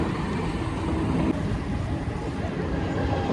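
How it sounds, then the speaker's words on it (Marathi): A local train passes close by on the tracks, a loud, steady broadband rumble and roar that stays even throughout without clear breaks. "हे बघा ट्रेन बघा कुठून जातं आमच्या जवळून एकदम."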